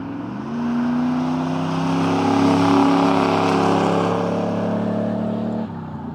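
A polo green 1995 Chevrolet Camaro Z/28 with a low, steady V8 rumble and a throaty exhaust, which swells slightly as the revs rise and then drops back near the end. The car is close and nobody speaks.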